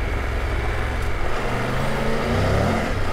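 A 2023 Triumph Tiger 1200 Rally Explorer motorcycle revs off-road, its engine droning loud and steady under heavy wind rush, the pitch climbing slightly as it spins up.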